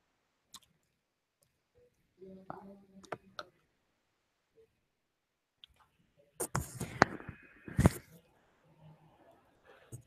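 Computer mouse clicks in software during a business webinar: a few sharp isolated clicks spaced apart, then a denser cluster of clicking and handling noise near the end, with quiet gaps between.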